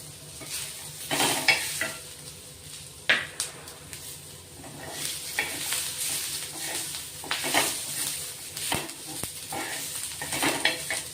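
Ginger pieces and garlic cloves frying with roasted onions for a village-style mutton masala, a constant close sizzle under repeated spatula scrapes and metallic clanks against the pot.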